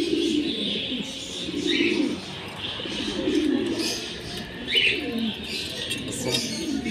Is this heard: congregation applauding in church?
no